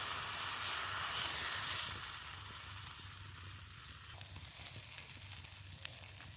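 Rice kundule fry in oil on a stove, a steady close sizzle and hiss that swells briefly, then settles into softer crackling with small pops.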